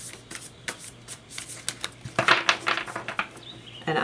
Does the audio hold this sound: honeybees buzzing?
no